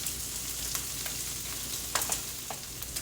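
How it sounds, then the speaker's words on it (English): Flour being stirred into browned sausage frying on low heat in a pan gives a faint, steady sizzle close by, with a few soft scraping stir strokes. "we're going to stir that in and cook that on that low heat for like 2 or 3 minutes"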